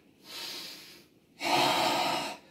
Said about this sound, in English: Breathe in, force the breath out.